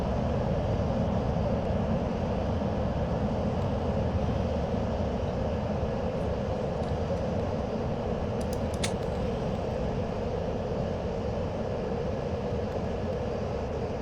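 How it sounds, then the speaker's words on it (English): Steady, loud jet engine roar from a fighter jet in the FSX flight simulator game as it comes out of afterburner, a broad continuous rumble holding constant with a brief hiss partway through. "So we're going to come out of Afterburner now."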